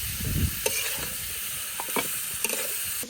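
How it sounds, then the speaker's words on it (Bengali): Onions and green chilies frying in a pan, a steady close sizzle with scraping stir strokes recurring every second or so, no voices. "পেঁয়াজ কাঁচামরিচ গুলো ভালোভাবে ভাইজা নেই।"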